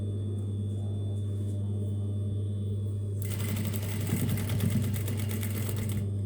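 A sewing machine stitching a garment bag starts up midway after quiet room hum, running in a fast, steady mechanical rattle close to the listener.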